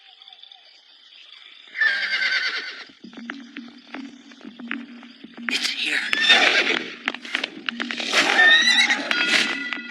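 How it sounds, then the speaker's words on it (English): Horse neighs loudly in two long whinnies with shuffling hooves and snorts in between, close by, while a voice speaks briefly over it in a historical drama setting. "The horse is dangerous."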